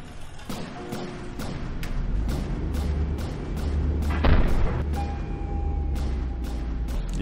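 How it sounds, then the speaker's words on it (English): Repeated booming advanced-cannon blasts and explosions in the game From the Depths over a low rumbling drone, with sharp impacts spaced irregularly and a sustained tone toward the end. "they are unfortunately a little bit explodey, like most advanced cannons"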